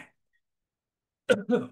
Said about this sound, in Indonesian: Batuk dulu lagi.